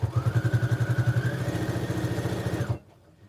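A sewing machine stitches the lining of a tote bag in a fast, steady run of close mechanical pulses with a faint whine, then stops abruptly into near silence.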